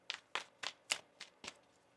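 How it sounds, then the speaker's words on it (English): Tarot cards shuffled by hand in six quick riffling bursts, each a short crisp papery rush with a soft tap, spaced at a steady rhythm, close and fairly quiet. "One more shuffle."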